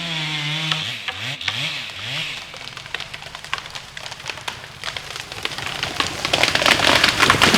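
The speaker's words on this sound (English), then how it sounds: "Chainsaws are the sound of increased carbon capture, helping with the climate change." A chainsaw cuts timber at an outdoor woodworking site, its engine revving and whining up and down before settling into a rough, crackling, sawdust-spitting cut that grows louder toward the end.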